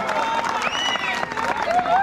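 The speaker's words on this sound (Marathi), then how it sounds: "टाळ्या वाजवूया" Spectators applaud steadily throughout at a kabaddi final that has just been tied, a dense crowd clatter heard under a loud commentator's voice.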